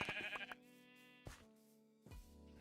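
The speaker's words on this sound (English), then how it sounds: "Hey, more sheep." Sheep in the video game Minecraft bleat three times, short wavering cries with clear gaps between them, heard alone without talk.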